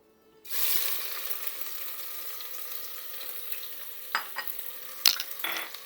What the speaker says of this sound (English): We're going to put the onions in the oil.